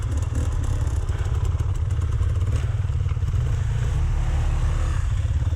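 Dirt bike climbing Bully Lane, a rough Welsh mountain trail on a slippery day, its engine droning loud and steady throughout with rattling clatter as the bike bounces over the rough ground.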